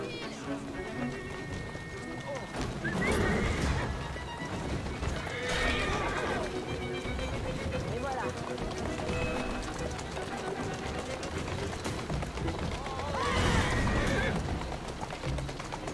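In the Victorian London game Assassin's Creed Syndicate, horses whinny loudly several times over steady trotting hooves and street ambience, with a few bird calls mixed in.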